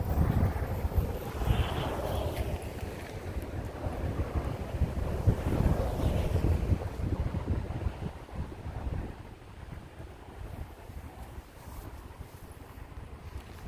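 Wind buffets a microphone beside a freeway, loud rumbling gusts that swell for several seconds and then ease into a softer, steadier rush.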